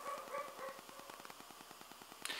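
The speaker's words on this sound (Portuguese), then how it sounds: "os cachorros, para de latir agora" Dogs bark faintly in the background, with a few distant yaps near the start and then a steady ticking pulse and quiet noise.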